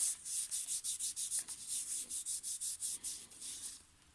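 Repeated back-and-forth rubbing as Roomba robot vacuum parts are wiped down with a cloth and rubbing alcohol, about a dozen quick even strokes close up, with no talking.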